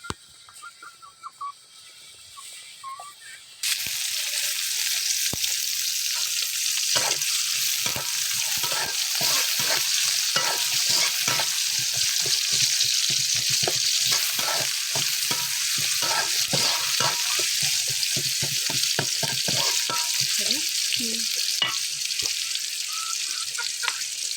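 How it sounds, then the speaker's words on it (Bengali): Bottle gourd is tempered with hot spiced oil, starting with a sudden loud sizzle that hisses on steadily, punctuated by frequent scraping and clattering stirs in the pan. "এখন লাউতে আমরা বাগার দিব"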